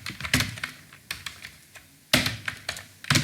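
Quick bursts of close, crisp keystrokes on a computer keyboard while typing an Excel COUNTIF formula, uneven in rhythm with short pauses, and no talk.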